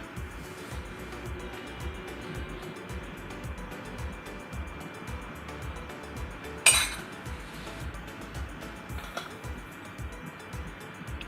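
Utensils clink and scrape in a bowl while chicken is mixed with a marinade of ginger and green chili, a steady close clatter with one sharper knock partway through.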